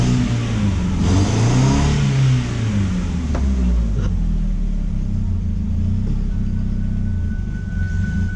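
A 2003 Ford Focus engine idles with a misfire, a loud, close rumble whose pitch wavers and surges unevenly, then settles into a rougher, stuttering hum.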